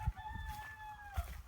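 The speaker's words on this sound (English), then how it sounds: "He's over there crowing." A rooster crows once in a long drawn-out call at a farmhouse, fairly distant and faint, with soft thumps at the start and end.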